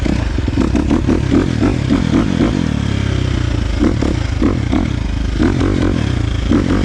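A KTM 350 XC-F dirt bike with a Vortex ECU tuned by Twisted Development putters along in first gear. Its close, loud engine throbs in a steady low rhythm with small throttle blips and no talking.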